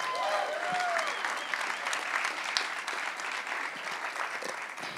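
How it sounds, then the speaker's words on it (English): Audience at an entrepreneur speaker series session applauds, a steady, even roar of many hands clapping, heard from a distance and fairly faint, with a brief whistle near the start. "Everybody, give them a round of applause."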